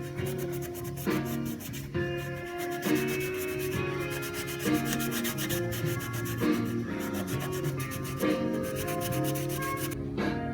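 A car body, a GM Chevelle, is scuffed by hand to abrade cured epoxy primer before seam sealing, with close, repeated rhythmic rubbing strokes of abrasive across the panel and no talk.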